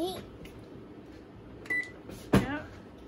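One short electronic beep sounds from an oven control panel as it is set to bake, faint and quick amid quiet kitchen voices and small clatters.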